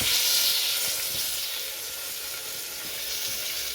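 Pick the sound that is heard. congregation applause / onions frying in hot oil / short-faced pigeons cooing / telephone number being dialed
onions frying in hot oil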